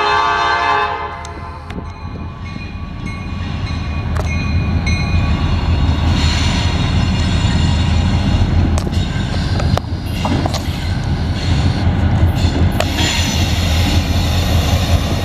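A Norfolk Southern L38 local freight train rolls past loud and close in Marion, Ohio, its rumble and rattling cars building and holding steady, with bursts of the horn sounding over the din.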